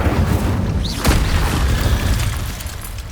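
An Incendio fire spell is cast in Hogwarts Legacy, giving a loud whooshing boom with a sharp burst near the middle and a rumbling tail that slowly fades.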